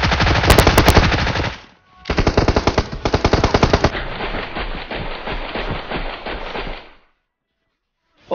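Rapid bursts of automatic gunfire in PUBG Mobile rattle loud and close in long volleys, broken by a short pause and a further stretch of sustained firing before falling silent.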